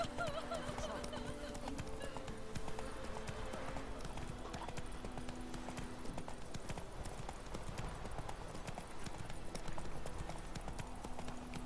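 Roach, a horse in The Witcher 3, trots along in steady, fairly quiet clip-clop hoofbeats over ambient game sound, with an occasional faint whinny.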